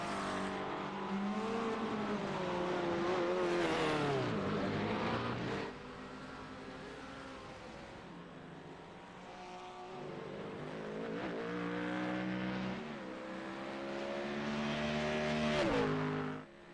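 GT3 race cars, a Ford followed by two Porsches, race around Zolder in a racing video game, engines droning and revving with repeated gear shifts and rising pitch, fairly faint and steady throughout.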